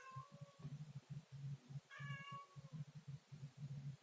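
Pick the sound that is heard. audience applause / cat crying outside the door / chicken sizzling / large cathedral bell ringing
cat crying outside the door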